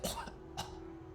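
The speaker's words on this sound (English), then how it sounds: "I coughed up some blood" A person coughs up blood as a sound effect in a horror story, giving two rough, breathy coughs close to the listener with a faint steady hum underneath.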